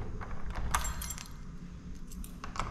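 A key jangles and clicks as it turns in a door lock to lock it, with a few sharp metallic chinks close by.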